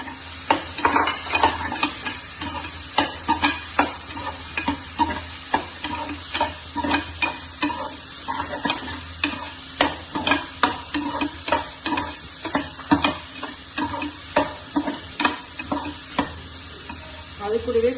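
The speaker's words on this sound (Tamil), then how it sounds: "வதங்கினதுக்கு அப்புறமா கட் பண்ணி வச்சுருந்த கேரட் பீன்ஸ் ஆட் பண்ணுறோம்" Carrots and beans sauté with softened tomatoes in a pan for South Indian sambar: a steady, close sizzle runs throughout, punctuated by regular taps and scrapes of a spoon stirring against the pan, with no voices.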